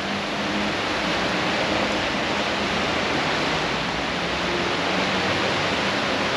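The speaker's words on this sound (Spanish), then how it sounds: "Miren, es crazy, ahí el río." Rushing river water beneath the 5 de Junio bridge in Latacunga, a loud, steady broadband roar with no breaks that fills the whole scene, like a nearby torrent or waterfall pouring continuously.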